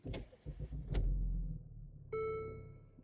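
A Mercedes ML W166 SUV starts with a starter crank and a low rumble, and a steady electronic tone and clicks follow as the engine settles to idle.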